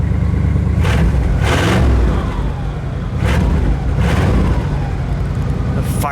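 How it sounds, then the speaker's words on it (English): 1957 Cadillac Series 62 Convertible engine being revved close by, a loud continuous rumble rising in several repeated surges over a steady idle, with voices faintly underneath. "Go ahead, give it a rev."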